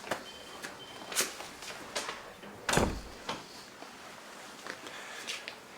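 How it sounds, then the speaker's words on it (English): A door swings shut in a doctor's surgery with one firm thud, amid faint scattered knocks and shuffling in a quiet room. "Close the door."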